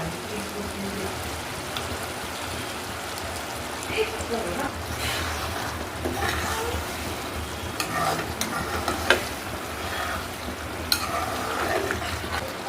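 Butter paneer masala curry bubbling and sizzling steadily in a pan after cream is stirred in, with occasional louder scraping stirs; continuous close cooking noise with no talk.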